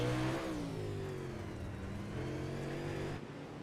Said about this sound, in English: Listen to that throttle too, man. That is feathering the throttle, working that throttle.